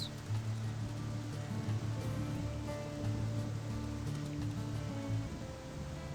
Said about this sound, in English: Amidst a thunderstorm, perhaps.